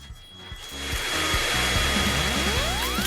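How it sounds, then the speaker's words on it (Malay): A hair dryer blows steadily and loudly for the whole stretch during a fast, medium or slow food challenge, with music playing beneath it. "Pengering rambut."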